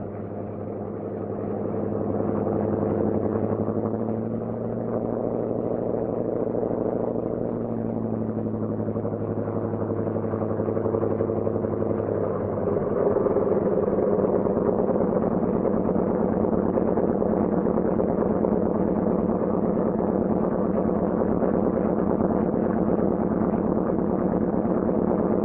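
Engine of a troop carrier aircraft starting up and settling into a steady idle, a continuous low droning rumble that swells slightly and then holds even for the rest of the run, with no talk.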